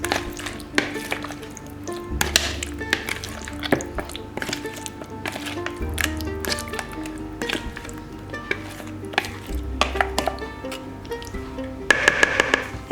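Mutton biryani marinade being stirred and mixed in a bowl, with soft wet squishing and scraping strokes that repeat at close range, plus occasional light clinks of utensils against the dish.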